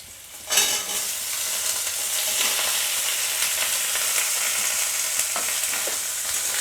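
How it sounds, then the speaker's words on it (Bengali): Young green jackfruit drops into a pan of browned onions and spices, setting off a sudden burst of sizzling that settles into a steady hiss with occasional stirring scrapes. "পেঁয়াজের সঙ্গে, মশলার সঙ্গে কাঁঠালের এঁচড়টাকে খুব ভালো করে ভেজে নেব।"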